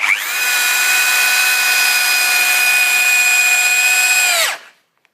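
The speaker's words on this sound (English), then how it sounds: "we need a pretty strong drill here, and we're going to drill that into the top to that full depth" A strong power drill bores into timber to full depth, a steady loud whine held for about four seconds before it abruptly winds down and stops.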